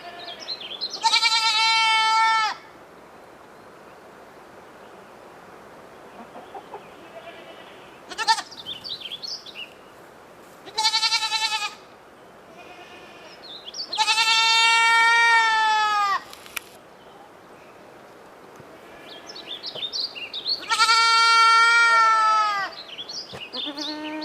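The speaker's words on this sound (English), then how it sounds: "a little loud, of some goats using these contact calls" Goats give loud contact calls, a series of wavering bleats in separate bursts spaced a few seconds apart, close and clear over a quiet background.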